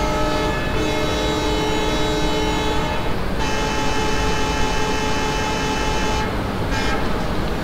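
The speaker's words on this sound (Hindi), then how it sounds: "चले डिपार्टिंग के लिए हॉर्न बजा देते हैं." Train horn sounded for departure in the MSTS Open Rails simulator on an Indian passenger train, sustained loud tonal blasts in two long sections over a constant rumbling engine background.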